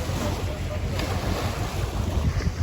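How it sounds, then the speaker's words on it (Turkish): Slightly choppy sea waves wash and slap continuously at an evening fishing spot, mixed with heavy wind buffeting the microphone, a broad steady roar with no pauses. "Deniz hafif dalgalı."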